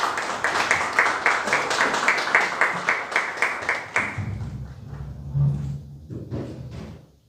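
Audience at a Democratic Party youth politics lecture in Jeju applauds to welcome the provincial party chair, with close, brisk clapping for about four seconds before it thins into scattered claps and shuffling.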